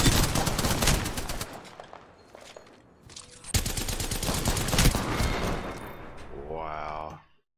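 Rapid automatic gunfire in Apex Legends: dense bursts of shots crackle through the opening seconds, pause, then resume in a long sustained stream before cutting off, with other game sounds at the end.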